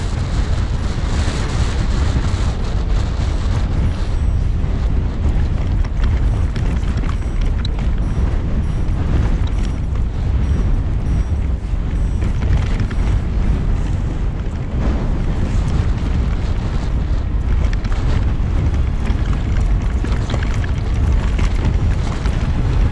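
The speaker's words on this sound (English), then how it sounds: "Still very windy." Heavy wind buffets the microphone during a downhill ride in the Black Mountains, a loud, steady, low rumbling roar that never lets up, with no voices heard.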